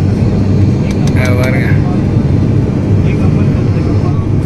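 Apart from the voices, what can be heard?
airplane cabin noise during flight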